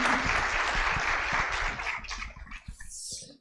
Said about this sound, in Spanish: un aplauso por favor a Melissa